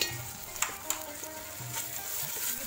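Tomato paste frying with light-browned onions in a pan, a soft, steady sizzle with a few sharp clinks and scrapes of stirring near the start.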